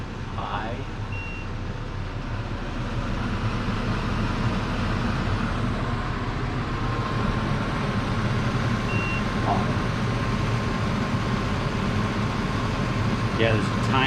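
Furrion Chill Cube RV air conditioner fan running on high, a loud steady whoosh of blowing air filling the space, with a few faint beeps from control presses and a person speaking nearby.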